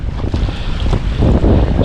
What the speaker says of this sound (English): and really windy.